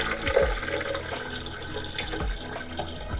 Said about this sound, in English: we're gonna add 4 cups of water